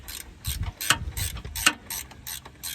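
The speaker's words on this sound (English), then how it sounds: "Try and run this one in with the ratcheting box end wrench." A ratcheting box end wrench turns a motor mount bolt on a Honda Element with a manual 5-speed, giving a close series of about eight crisp ratchet clicks in a fairly even rhythm.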